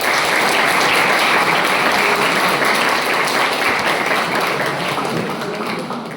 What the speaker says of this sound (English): so we should clap for him.